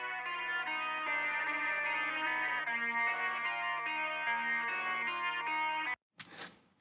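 A music mix processed with the Waves Abbey Road Reel ADT doubling effect, a thick, slightly chorused band sound playing steadily before stopping suddenly, followed by a short burst of noisy sound.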